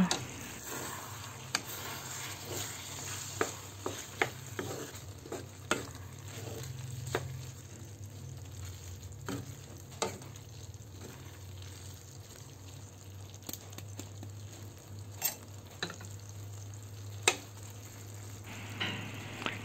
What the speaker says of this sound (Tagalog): pagkatapos ng 2 minuto, haluin natin ito